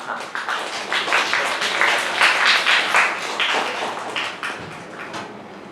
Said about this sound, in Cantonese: 咁我哋俾啲掌聲呢個同學好唔好啊